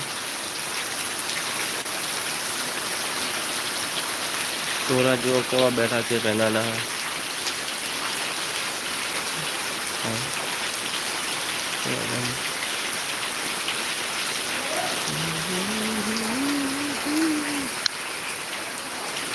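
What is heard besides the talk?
heavy rain falling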